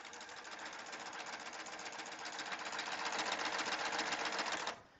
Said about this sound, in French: on pique au point de chaînette